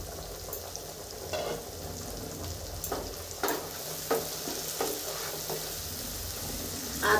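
Ginger, tomato and cumin sautéing in oil on low heat under a lid for a spicy tengra fish curry, a constant soft sizzle marked by scattered light clicks and utensil taps, with no speech.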